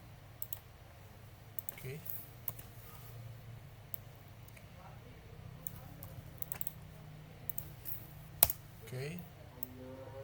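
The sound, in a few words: typing an IPv6 command on a computer keyboard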